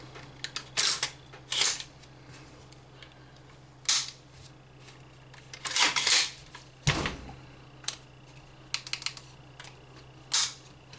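Maccabee Defense SLR rifle action cycled during a function check: a series of sharp metallic clacks and clicks, spaced irregularly, close and clear with no talking.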